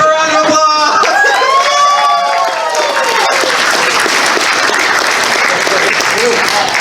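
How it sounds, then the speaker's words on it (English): Audience at a charity comedy show breaks into applause and cheering, with shouting voices and whoops at first, then a loud sustained wave of clapping. "Give a round of applause!"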